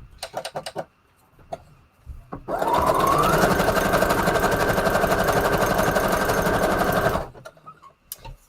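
A sewing machine running a straight stitch through a junk journal page, one steady fast whirring run of about four and a half seconds, close and loud, with brief handling clicks before and after.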